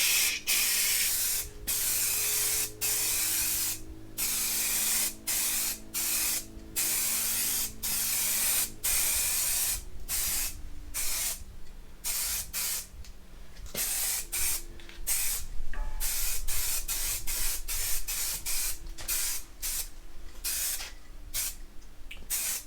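Aerosol spray paint goes on in a light coat over a diesel engine oil pan, heard as many short, close hissing bursts in an irregular rhythm with brief pauses between them.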